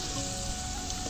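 Potatoes and pointed gourd fry in hot oil, giving a dense, continuous sizzle and crackle that stays even throughout, with no voices.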